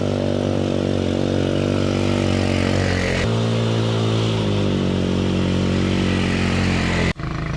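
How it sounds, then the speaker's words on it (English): An ATV engine drones loud and close at a steady pace throughout a ride in Ilihan, Siargao, shifting pitch slightly midway before cutting off abruptly near the end. "It was a truly privilege to try my first ATV ride here in Ilihan."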